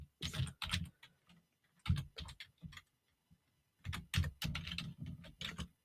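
Rapid bursts of typing on a computer keyboard during a virtual software workshop, clattering in short clusters with brief pauses, close and fairly clear with no talk over it.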